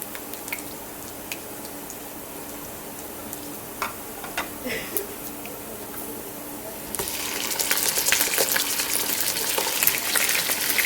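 Chicken is added to cumin in a pot for chicken tarka nihari. Faint drips and ticks come first, then a loud, steady sizzle bursts in and keeps hissing to the end.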